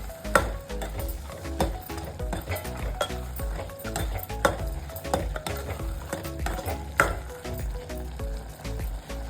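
A spoon stirs ridge gourd curry with coriander in a pan, giving repeated scraping clacks against the metal at an irregular steady pace over a soft background sizzle, fairly quiet and close.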